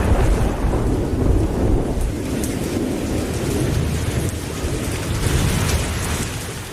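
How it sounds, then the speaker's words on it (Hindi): A rumbling thunderstorm with steady, heavy rain in South India. It is loud and continuous, with low thunder rolling under the constant hiss of rainfall and no voices. "आज बिन मौसम ही बारिश हो रही थी।"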